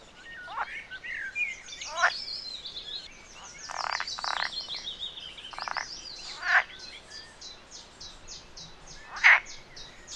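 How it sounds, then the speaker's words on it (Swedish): Frogs croak at a fishing spot by the water, with sharp, rasping calls at irregular intervals alongside chirping birds, fairly near and clear over quiet outdoor ambience, with no talking. "Även grodornas förehavanden är ju kul att titta på."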